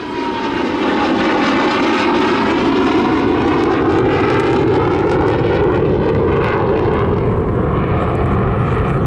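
A SAAB SK-37 Viggen jet makes a low-speed pass at an airshow, its engine a loud, steady roar that fills the whole stretch with slowly shifting pitch, close and continuous with no talk.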